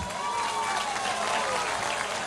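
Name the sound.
crowd applause for President Lula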